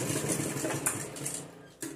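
Sewing machine stitching a dress, a steady mid-pitched mechanical whir running throughout at close range, with a brief pause and slight change in pace near the end.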